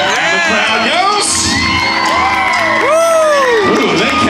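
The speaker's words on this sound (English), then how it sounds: "The crowd goes." A crowd at a Six Flags Frightfest show at Discovery Kingdom in Vallejo, California cheers, whoops and shouts loudly in a short close burst of many voices.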